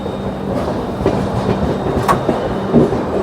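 A Jharkhand Sampark Kranti passenger train on the Delhi to Ranchi run rolls from a loop line onto the main line, giving a steady close rumble with rhythmic wheel clicks and no talking.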